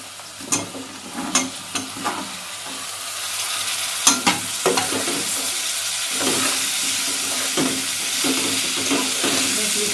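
Broccoli and potato curry with coriander powder is stirred in a sizzling pan, with sharp spatula scrapes and clacks at irregular intervals over a constant frying hiss, with no talking.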